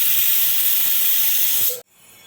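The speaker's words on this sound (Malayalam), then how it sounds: "കുക്കറിൽ ലോ ഫ്ലെയിമിൽ ഒരു 5 വിസിൽ വന്നിട്ടുണ്ട്" A pressure cooker on the stove cooking mutton curry lets off a loud, steady hiss of escaping steam that cuts off sharply near the end, leaving quiet room sound.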